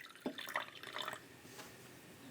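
Lemon juice poured into a glass, a short run of splashing liquid and drips lasting about a second and then fading, heard close and fairly quiet.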